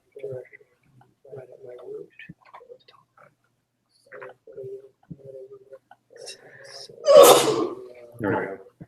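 A single loud, sharp sneeze bursts out near the end, during a quiet tech meetup talk about the Ionic framework. Scattered speech comes before it, and a brief voice follows after.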